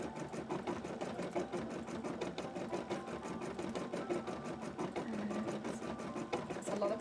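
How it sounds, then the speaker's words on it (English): A computerized embroidery machine runs tacking stitches to finish a very large embroidery. Its needle gives a rapid, even, rhythmic clatter at moderate volume that carries on steadily, with no one speaking. "we are having the machine at the moment run, doing the remainder of the machine embroidery"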